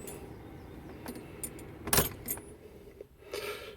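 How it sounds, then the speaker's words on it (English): Car keys for a Mercedes Sprinter van with a no-start fault jingle in bursts as one set is swapped for another, with a sharper metallic clatter midway, close up and moderately quiet inside the vehicle. "Now, we'll change keys to the other set of keys and see if that works."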